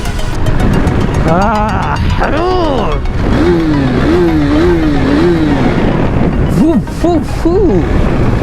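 A KTM RC390 motorcycle riding on a road, engine droning steadily with rising and falling revs, wind noise throughout and a rider's voice talking over it.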